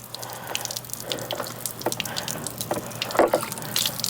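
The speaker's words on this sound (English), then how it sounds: "A little bit of water came out" Water drains from an outboard motor after a flush hose is unscrewed, a close, steady trickle with scattered drips and splashes.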